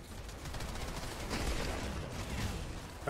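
Rapid gunfire from weapons in the sci-fi shooter game Outriders, a dense continuous burst of shots with mechanical clatter, steady and fairly loud throughout.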